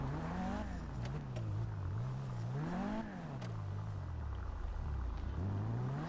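A Kuruma car driven in a video game, its engine droning steadily and rising and falling in pitch as it revs and shifts, with continuous road rumble and some voice underneath.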